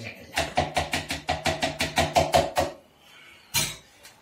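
Whisking a cheese flan mixture in a bowl, a quick even run of about a dozen sharp clinking strokes, followed by a pause and one louder final clatter.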